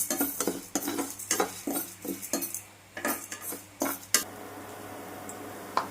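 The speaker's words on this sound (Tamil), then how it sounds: "அதுலேயே நம்ம இந்த உளுத்தம்பருப்பை கொட்டிக்கணும் அதுவும் பொன்னிறமாக வர வரைக்கும் வறுத்து எடுக்கணும்" Urad dal roasts in leftover chilli oil in a kadai, with a spoon repeatedly scraping and clattering against the metal pan in uneven strokes over a faint sizzle, close and without talking.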